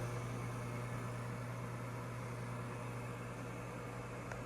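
A KitchenAid KMMF530PPS microwave oven runs while warming milk, giving a steady, unbroken low hum with a constant fan-like whir throughout and no voices.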